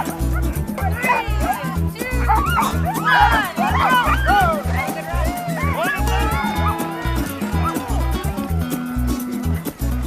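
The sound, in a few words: sled dogs barking at dogsled race start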